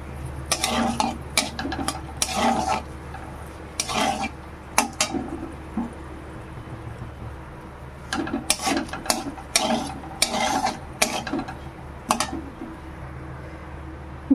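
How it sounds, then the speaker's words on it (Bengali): Four dried red chillies crisping in hot oil in a pan, heard as bursts of scraping and clinking from a spatula stirring against the metal, with a soft sizzle beneath and quieter pauses between the bouts. "শুকনো মরিচগুলোকে খুব সুন্দর করে মচমচে করে ভেজে নিতে হবে।"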